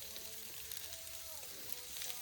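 Steak searing in a pan at a snowy mountain truck campsite, a steady broadband sizzle and crackle of fat rendering, fairly quiet and continuous throughout.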